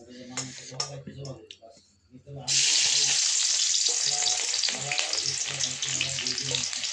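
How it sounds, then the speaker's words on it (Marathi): Chopped onion dropped into hot oil for a fish curry sets off a loud, steady sizzle after a few moments of clinking pans and utensils, with someone talking over it. "आता तेल गरम झालंय, मी ह्याच्यात कांदा टाकते कापल्याला।"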